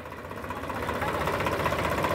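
A Swaraj 744 FE tractor, pulling a 14-disc harrow, runs with a steady, close diesel rumble and knocking throb that grows slightly louder, with no talk.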